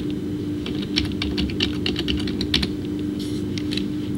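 Keys clatter on a computer keyboard as a tab name is typed, a quick, irregular run of light clicks lasting about four seconds, close and clear over a faint background hum.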